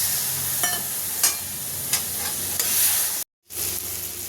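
Spice paste with chili and salt fries with water for a katla fish head ghonto, a bright sizzling hiss broken by a few sharp spoon scrapes, with a brief cut to silence near the end.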